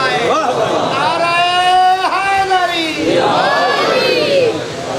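A large gathering at a Muharram majlis roars a loud, sustained shouted slogan response in unison, voices overlapping and rising and falling together for several seconds.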